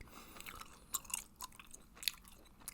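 Close, quiet chewing of Hubba Bubba strawberry watermelon bubble gum: soft wet smacks and clicks in an irregular rhythm, with no speech.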